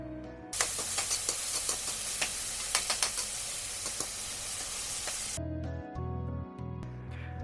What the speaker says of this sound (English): Stir it well and leave it to get fried for a while.